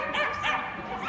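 A dog barks and yips excitedly while running an agility course, its voice continuous and mid-distance over a voice commentating throughout.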